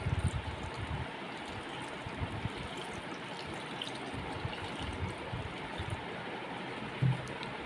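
Water poured into a pot of salted jackfruit before boiling, a soft, steady trickle heard faintly and alone, with a small knock near the end.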